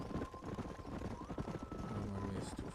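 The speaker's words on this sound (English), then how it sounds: "There's the horses!" Horses in Red Dead Redemption on Xbox Series X, a steady run of hoofbeat clip-clops mixed with game ambience and low voices, all fairly quiet.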